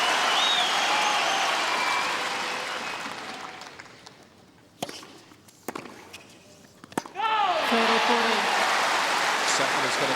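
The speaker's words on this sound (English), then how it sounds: "Have a listen to the Australian crowd now." A crowd at an Australian Open 2009 quarterfinal tennis match between Dinara Safina and Jelena Dokic cheers and applauds loudly, fades, then a few sharp ball hits ring out before the noise swells again with a commentator talking.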